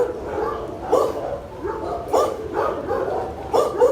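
A rescue dog barking and whimpering: a series of short, close, fairly loud yips and barks, roughly one every half second, over a low background hum.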